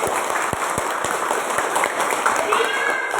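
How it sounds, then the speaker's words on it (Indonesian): Classroom of schoolchildren clapping together, a dense steady patter of applause with a few sharper claps standing out, close and filling the whole moment, with young voices faintly mixed in. "tepuk tangan untuk kita semua"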